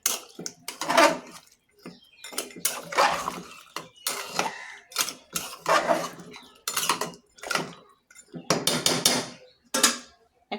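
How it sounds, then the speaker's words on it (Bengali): Food cooking in a pot with salt added, stirred with a metal utensil in a series of loud, irregular clanking scrapes against the pot, close up with short pauses between strokes. "নেড়ে নিচ্ছি।"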